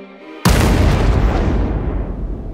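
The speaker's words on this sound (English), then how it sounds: "This caused the N-1 to lean over at a 45-degree angle and drop back onto the launch pad, which caused a massive explosion." A massive explosion as an N-1 rocket falls back onto its launch pad: a sudden loud blast after a brief quieter lead-in, followed by a sustained roaring rumble that slowly decays.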